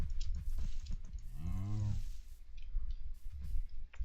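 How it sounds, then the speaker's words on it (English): A cow in the Minecraft Ingenuity modpack gives a single drawn-out moo with a falling pitch, heard clearly over steady background game noise and faint clicking. "there's a cow."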